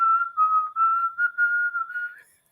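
A person whistles a tune close by, a clear pure tone wavering up and down in short connected phrases before trailing off.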